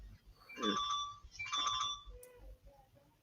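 A phone rings with an incoming call, two electronic warbling trill bursts close by, followed by a few faint beeps and light background noise.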